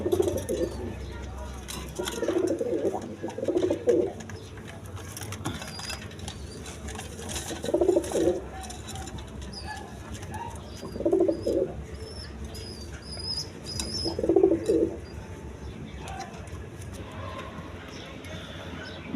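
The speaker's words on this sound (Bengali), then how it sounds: "এইখানে এক পেয়ার কবুতর আছে, সিলভার কবুতর" A pair of silver pigeons coo in low, repeated bursts at a pigeon seller's, close and moderately loud, spaced out across the span with quiet background hiss between calls.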